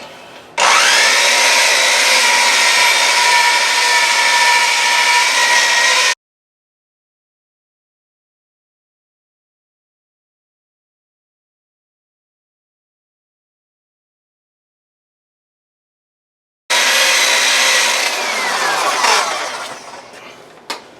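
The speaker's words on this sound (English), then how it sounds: "This is a buffer pad from Harbor Freight on a cheap little Chinese buffer. And we're just going to buff it out" A cheap little electric buffer with a Harbor Freight pad spins against a hazy car headlight lens, giving a loud steady whir that runs for about six seconds, stops into silence, then starts again near the end.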